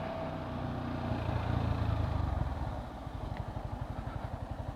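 Yamaha R15 V4 motorcycle riding in sports mode with quickshifter, engine droning loudly then settling into a rapid pulsing exhaust beat, close and steady throughout.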